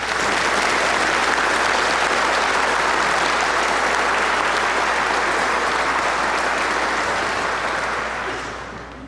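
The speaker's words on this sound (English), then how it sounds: "let us all clap our hands for our little children who have received their first Holy" A church congregation applauds at Mass after children receive their first Holy Communion: steady, full clapping that fills the space for several seconds with no voices, then trails off near the end.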